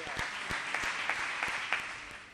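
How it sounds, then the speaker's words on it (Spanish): An audience at a flamenco and rice food-tasting presentation claps for a performer, a moderate round of applause with a few distinct louder claps standing out, fading slightly toward the end. "me gustaría que le dieran ustedes otro aplauso al gran Juan Murube"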